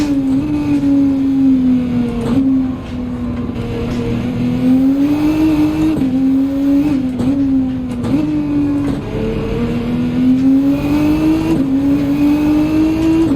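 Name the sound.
race car engine revving in Gran Turismo 7 video game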